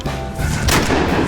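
A single loud gunshot rings out during a timber duck hunt near Stuttgart, over steady outdoor background noise, with no speech.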